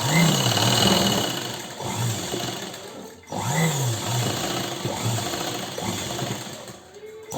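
Sewing machine stitching lines through kurti fabric, a steady close mechanical whir with rapid needle chatter that runs in two long bursts split by a brief pause near the middle, no voices over it.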